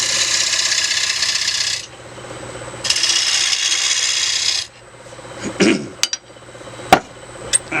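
Wood lathe rough turning an 11-inch cherry bowl blank, with two long stretches of steady hissing, scraping cuts, then quieter rubbing and a few sharp knocks as the turning slows.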